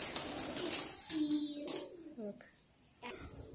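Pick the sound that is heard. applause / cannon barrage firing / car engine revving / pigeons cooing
pigeons cooing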